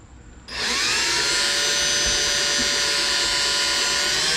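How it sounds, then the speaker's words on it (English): A power drill starts up with a sudden whine and bores steadily into a metal motor support bracket for a Crazy Cart XL, holding a loud, even high-pitched tone throughout with no talking. "make sure that the drill bit does not wander"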